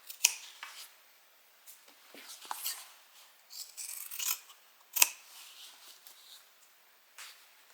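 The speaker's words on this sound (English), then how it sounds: "Go ahead and clip down to our stitching. Let's trim these back." Scissors trim fabric seam edges while a bag is being sewn, making sharp intermittent snips and rustling cuts. The cuts are close and quiet and come in an irregular rhythm across near silence.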